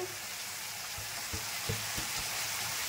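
Half-boiled cabbage fries in a hot kadai with a steady, broadband sizzle, broken by a few soft clunks from stirring; no one speaks.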